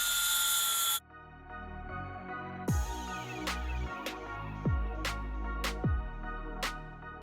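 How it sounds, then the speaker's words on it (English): A small handheld flap wheel tool spins up and grinds at the edge of a metal part for a dirt bike-based big wheel build, a whirring motor whine with repeated rising pitch sweeps as it bites, moderately close and alone. "So I'm gonna take a little flap wheel right here."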